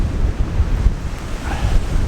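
Strong wind from Storm Ciara buffets the microphone in a continuous low roar with gusty swells, loud and close, with no voices.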